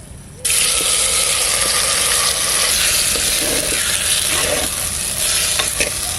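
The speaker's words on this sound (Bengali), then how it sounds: "তেল দিয়ে দিচ্ছি দুটো শুকনো লঙ্কা এবার দিয়ে দিচ্ছি" Two dried red chillies drop into hot oil in a pot for a Bengali egg curry. A loud, steady sizzle and crackle bursts in at once and runs throughout, with a few faint utensil clicks and no talking.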